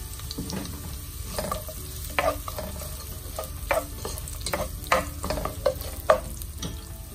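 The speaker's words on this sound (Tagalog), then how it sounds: "Luto na yung bawang, sunod natin yung sibuyas." Onion goes into a pan already holding cooked longganisa and garlic, frying with a steady soft sizzle while a utensil scrapes and stirs in irregular clicks close by, and no talking.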